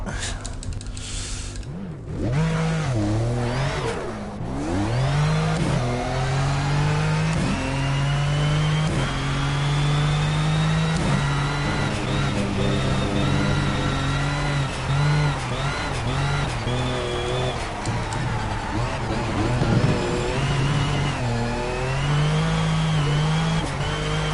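A small car's engine revving hard in the racing game Project Cars: a loud, close, sustained buzz climbing and dropping through repeated gear changes and throttle blips, with brief quieter moments early on.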